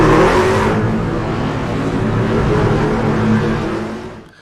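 Racing trucks accelerate off pit road, a loud, dense roar of engines revving together that holds steady for several seconds before fading away at the end.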